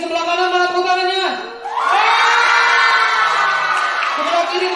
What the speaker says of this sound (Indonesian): Coba tepuk tangannya dari sebelah kanan, mana tepuk tangannya?